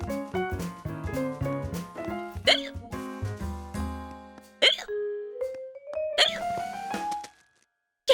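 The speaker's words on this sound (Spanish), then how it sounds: "Llevo con este hipo 2 semanas, no se me quita." A cartoon character hiccups several times amid a busy musical score, with sharp vocal gulps breaking through the tuneful background before a sliding whistle-like tone and a final abrupt hic.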